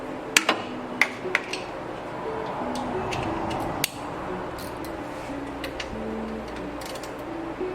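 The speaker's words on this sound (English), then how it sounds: "we're gonna break loose the top bolt here, and again we're just loosening so that it'll pivot" A ratchet or wrench clicks a few times as a 14 mm bolt is broken loose on a Toyota 3.4 engine, sharp metallic ticks at the start, then quieter clinks over a steady background hum.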